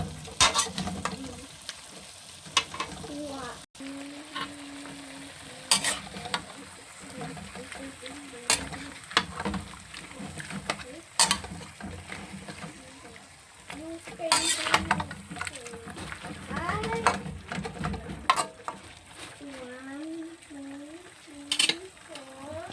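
Chicken pastil being stirred in a frying pan, a soft sizzle under repeated sharp clinks and scrapes of a utensil against the pan, close by, with a voice speaking now and then.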